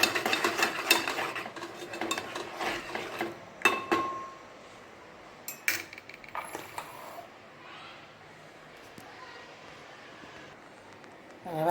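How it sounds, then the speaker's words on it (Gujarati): A spoon stirs jaggery into tea in a metal pot, giving scraping clinks and rattles that cluster early and again midway, then fade to quiet with sparse light taps. "આમાં સરસ મિક્સ કરી દઈશું."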